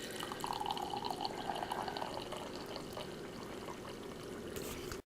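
Matcha tea pours from a Sharp Tea-Ceré matcha maker in a soft, steady trickle with faint splashes for about five seconds, quiet and close, then stops abruptly.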